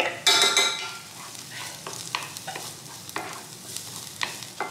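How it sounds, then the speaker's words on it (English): Minced garlic and seeded serrano pepper hit a hot pan with a loud initial sizzle, then settle into a lighter hiss punctuated by repeated scraping strokes of a utensil. "I'm gonna add 2 garlic cloves, which I minced, and 1/2 a serrano pepper"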